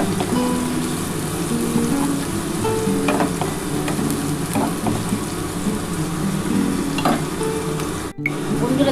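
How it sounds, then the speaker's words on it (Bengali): Onions frying in oil in a pan for a Bengali katla fish curry, a steady loud sizzle with occasional stirring scrapes running throughout, briefly cutting out near the end. "বন্ধুরা দেখো আমার কিন্তু পেঁয়াজটা ভাজা হয়ে গেছে"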